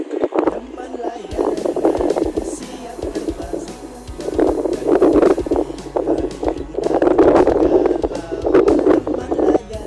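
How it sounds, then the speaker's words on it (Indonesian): Strong wind blows outdoors while a kite flies on a thin, old string, giving a continuous loud gusting roar with low rumbling buffets on the microphone; voices talk intermittently over it. "Dan anginnya sekarang sudah sangat kencang ya."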